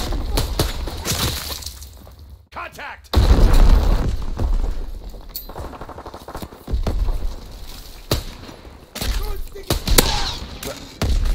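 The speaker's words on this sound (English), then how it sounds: "Enemy mortar fire incoming. Fall back. Incoming enemy artillery." Enemy mortar and artillery explosions in the World War II shooter Call of Duty WWII, several heavy booming blasts at irregular intervals, one especially loud and close, with battlefield noise and brief voices between them.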